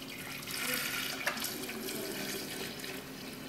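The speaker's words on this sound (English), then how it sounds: "place it in your pitcher, and then pour in the boiling water." Boiling water poured from close by into a pitcher over ginger for ginger tea, a soft continuous splashing gurgle with one small knock partway through, no voices.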